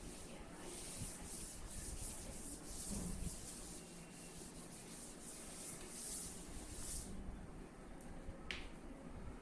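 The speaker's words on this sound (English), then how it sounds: "I'll rub out the board." Writing is rubbed off a classroom board with a continuous dry, scratchy rubbing that keeps going for several seconds. The sound is close and steady, with no talking.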